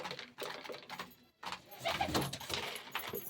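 Pet pigeons kept indoors in a home loft during cold weather coo softly in low, rolling murmurs, close by, with some rustling and faint knocks between calls.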